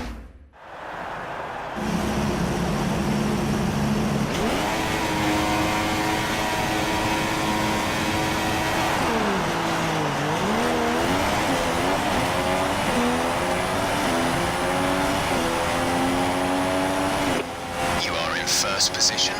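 F1 cars at the race start of the Malaysian Grand Prix in the F1 2016 video game, a loud, continuous high engine whine that climbs and shifts in pitch through the gears, with other cars audible around it.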